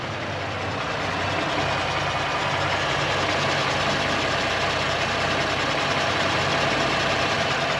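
A 2020 Ford Raptor pickup truck's engine runs steadily, a continuous droning hum with a faint whine over it, moderately loud and unbroken throughout, with no talking.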